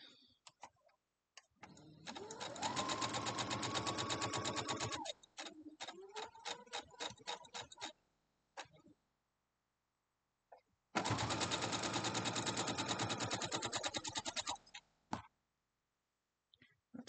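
A sewing machine stitches quilt block pieces together in two long, fast, rhythmic runs, the first one broken by short stop-start bursts and the second running steady, with quiet gaps between.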